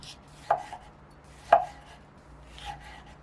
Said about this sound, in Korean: 잘 익은 토마토도 작은 크기로 잘라 팬에 넣으세요